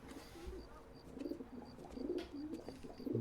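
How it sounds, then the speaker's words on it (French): Pigeon cooing in the video game L.A. Noire, soft repeated low coos over a faint ambient background, heard alone without talk. "Ah, petit pigeon."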